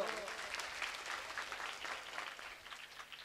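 Audience applause at a devotional Ramamandal stage performance, a steady wash of clapping from a crowd, fairly distant and even throughout.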